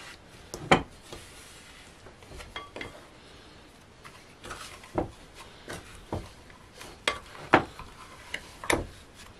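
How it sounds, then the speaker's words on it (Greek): A mixture is stirred in a bowl with a utensil, producing sparse, irregular clicks and taps against the bowl's side over a quiet background. "Ανακατεύουμε καλά."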